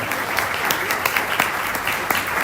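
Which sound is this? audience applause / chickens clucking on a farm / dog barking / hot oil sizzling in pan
audience applause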